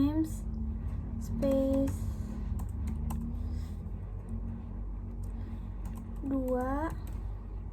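Someone types code on a computer keyboard, producing quick, faint clicks over a steady low hum, while a voice with rising tones is heard at intervals.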